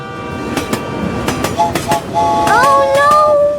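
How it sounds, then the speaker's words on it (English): A train rushes past with a rhythmic clatter of wheels, then a loud horn blares in rising, sustained tones near the end; close and fairly loud, with a faint voice briefly underneath. "Oh no! The train is coming fast!"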